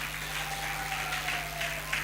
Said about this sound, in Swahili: Naomba tuwapige makofi kwa kweli.